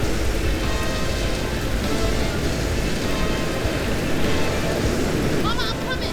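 Heavy thunderstorm rain from the video game South of Midnight pours in a loud, constant wash with low rumbling beneath, a dense unbroken roar throughout.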